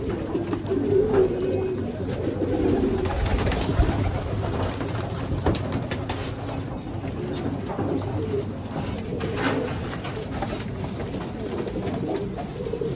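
Several pigeons coo continuously nearby, soft throaty rolling calls that overlap over a low background murmur, with no talking.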